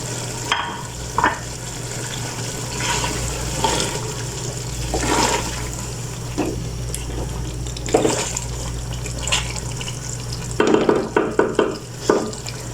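Green chilies, mint and coriander stirred into chicken chana pulao frying in a pot: steady scraping, sizzling and stirring textures with periodic louder stirs and a constant low hum underneath, no talking.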